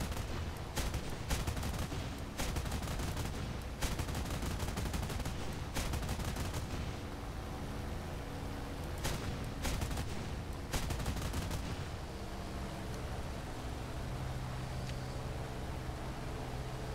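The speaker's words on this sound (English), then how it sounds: "30mm machine guns will do that" Bursts of 30mm machine gun fire from an aircraft in War Thunder, several rapid rattling volleys repeating every second or two against steady engine and wind noise, loud and close, with no talking.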